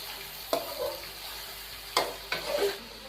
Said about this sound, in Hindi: चिकन की अच्छे तरीके से भुनाई हो जाए